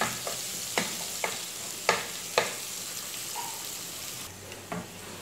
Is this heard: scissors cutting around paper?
no